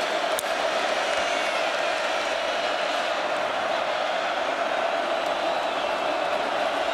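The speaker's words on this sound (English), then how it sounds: "Ohio State crowd wanted a flag. They're showing the replay and the crowd voicing its displeasure." An Ohio State football stadium crowd voices its displeasure during a game against Penn State, a steady, far-off roar of disapproval that holds evenly at a loud level throughout.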